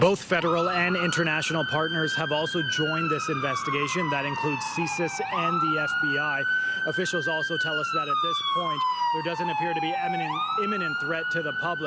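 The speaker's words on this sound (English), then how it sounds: "you can hear the ambulance behind me." An ambulance siren wails on a busy Toronto street, its rising and falling tone continuous and moderately loud behind a person speaking steadily over it.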